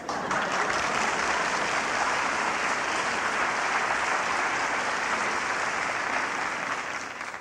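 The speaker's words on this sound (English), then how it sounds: "Could you please hold your applause until the entire choir is introduced?" Studio audience applause for a comedic police choir introduction on a television variety show, a thick, even wash of clapping that stays constant and fairly soft throughout, with no talking.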